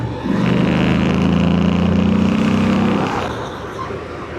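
A Royal Enfield Goan Classic motorcycle engine pulls hard to overtake, a loud, steady droning rise lasting a few seconds under strong wind rush before it eases off.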